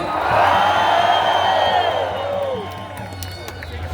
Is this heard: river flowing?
no